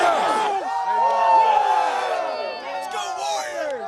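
Valley Christian Warriors team members shout a rousing team cheer, a loud group yell with rising and falling voices and whoops bunched close together that fades slightly toward the end.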